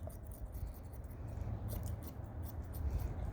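Scissors snipping through the thick ear hair of a Newfoundland dog during grooming, a steady run of soft, close crisp cuts over low background noise.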